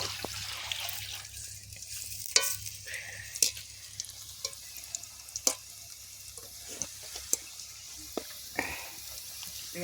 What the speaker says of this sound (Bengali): এটাতে ভাজাটা খুব সুন্দর হয়েছে